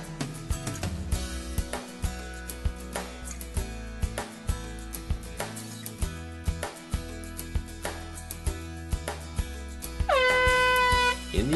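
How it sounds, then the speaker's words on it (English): A grain facility's air horn emergency alarm sounds near the end as a loud, sustained blast. It cuts in after a long stretch of quiet, rhythmic ticking and knocking. "a continuous blast from our air horn alerts all personnel to stop what they are doing"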